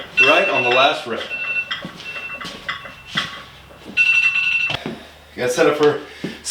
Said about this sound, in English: And there is the timer right on the last rep.